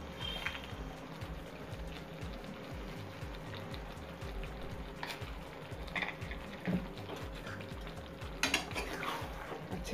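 Butter chicken masala being stirred in a pan makes quiet, rhythmic scraping and soft clinks of the spoon against metal over a faint low simmer.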